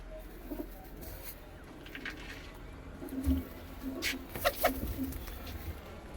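Punjabi breed pigeons cooing softly in a pen, low repeated coos scattered across several seconds amid faint rustling and distant background noise.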